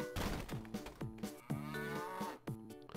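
Cows moo repeatedly in the Napoleon Dynamite DS video game, a series of loud, close, game-style moos in quick succession with thuds between.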